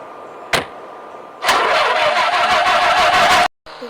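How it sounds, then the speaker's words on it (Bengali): A car engine that had been smoking is restarted: a short click, then the starter cranks and the engine catches into a loud, steady running roar for about two seconds before it cuts off abruptly. "চলো এবার রিস্টার্ট করে দেখি।"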